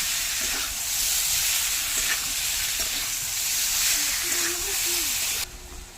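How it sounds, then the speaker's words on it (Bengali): Shrimp and taro stems frying in a pan while being stirred, a steady loud sizzle with repeated scraping strokes of the spoon throughout, the hiss dropping off near the end. "তার সঙ্গে এবার মিশিয়ে নেবো"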